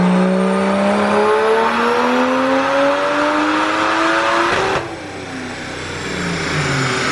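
Single-turbo BMW 335i revving hard on a dyno, engine pitch climbing steadily through a long pull before a sudden lift-off and a falling, lower-pitched decel; loud, close and continuous with no talk.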